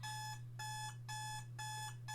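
An alarm clock rings in an escape room challenge, its bright electronic beeping arriving in four evenly spaced bursts over a constant low hum, with no one speaking.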